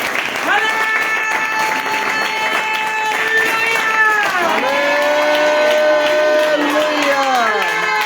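A church congregation claps loudly and continuously throughout a worship service, with the applause mixed with sustained musical tones and voices.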